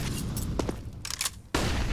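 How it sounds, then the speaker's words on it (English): Flashbang grenade popping above main during a tier 1 CS:GO pro match on the Anubis map, a sharp burst cutting in near the end over a steady bed of game noise and scattered distant gunfire. "Flash that pops above main"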